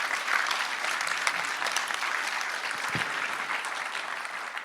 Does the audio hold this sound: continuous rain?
no